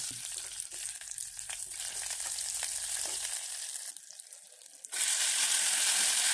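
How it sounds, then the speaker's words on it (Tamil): Crushed ginger fries in hot oil for lemon ginger rasam, a close crackling sizzle with faint stirring that dips briefly before bursting into a louder, brighter hiss. "க்ரஷ் பண்ண இஞ்சி 1 மினிட்டு ஃப்ரை பண்ணிக்கலாம்."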